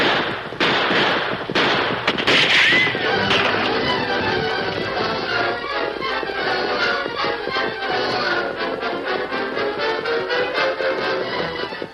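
Rapid gunfire crackles in a radio-drama shootout, a dense burst of sharp cracks and pops close up, then a long rattling volley of repeated shots that gradually thins out.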